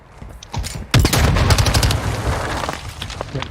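Rapid gunfire from a shotgun and pistol in the shooter game Warzone 2.0, a burst of loud close shots erupting about a second in and continuing as a dense fusillade with echoing booms.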